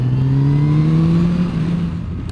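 A Yamaha FJR 1300 motorcycle engine pulls hard as it accelerates, a loud, close, rising drone heard alone with no talk.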